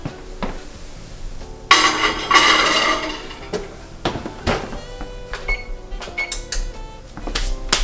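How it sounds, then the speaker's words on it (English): A pot pie going into a home oven: a burst of rattling clatter as the dish and rack slide in, followed by scattered knocks and clicks of the oven door and handling, fairly close with no talk. "So into the oven we go."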